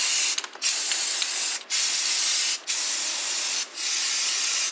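An aerosol can sprays paint onto Crocs shoes in loud, close hissing bursts of about a second each, separated by brief pauses, with no voices.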